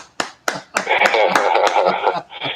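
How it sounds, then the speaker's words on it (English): A few separate hand claps sound close by, then a short burst of quicker clapping from a small group on a morning talk show, with voices mixed in over the clapping. "here's a little hand clap"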